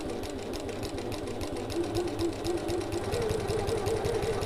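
A sewing machine stitches into the corner of an evening bag at a short stitch length, a close, steady rhythmic chatter of needle strokes running throughout.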